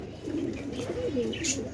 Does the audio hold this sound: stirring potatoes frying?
no